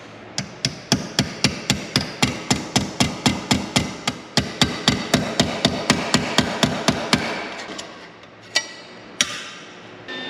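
A hammer taps a bent exhaust pipe for a 1930 Dodge pickup truck with a Cummins engine, about thirty sharp metallic strikes in a steady quick rhythm, close and loud, then slowing to a couple of isolated hits at the end.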